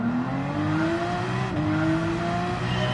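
A Porsche engine in Gran Turismo 7 at the Red Bull Ring drones steadily, its pitch rising smoothly as it accelerates, with one brief gear change midway, close and continuous with no talk.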